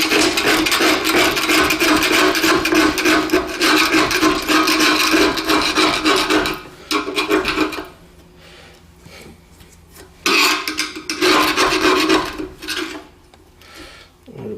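A screwdriver worked back and forth scrapes old rope gasket out of a stove door channel, loud continuous rasping bursts that stop briefly and then resume.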